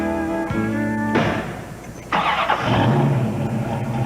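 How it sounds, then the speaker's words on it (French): A car engine runs at the curb in Montréal, a steady mid-pitched hum with a rise partway through as it picks up, loud and close with no talking. "Tu l'entends, le moteur?"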